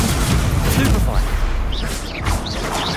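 A Stupefy stun spell cast during combat in Hogwarts Legacy crackles and bursts amid loud, dense battle noise, with booming impacts and whooshing magical effects layered over each other, and a voice shouting over the fray.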